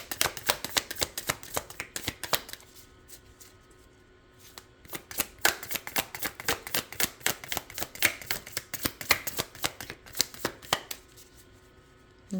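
Tarot cards being shuffled give close, crisp riffling bursts again and again, each a rapid flutter of card edges, with short pauses between and no talking.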